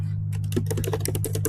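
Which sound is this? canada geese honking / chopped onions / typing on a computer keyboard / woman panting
typing on a computer keyboard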